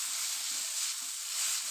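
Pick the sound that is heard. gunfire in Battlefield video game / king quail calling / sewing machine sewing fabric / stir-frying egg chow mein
stir-frying egg chow mein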